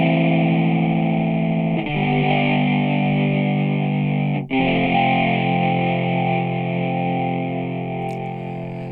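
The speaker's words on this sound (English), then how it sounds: "And then we'll have a listen to this one, even more overdriven." Heavily overdriven guitar from UJAM Virtual Guitarist Cinedream rings out as loud, dense distorted chords. One chord change comes near two seconds and a brief cut near four and a half, then it sustains and slowly fades, with no voices.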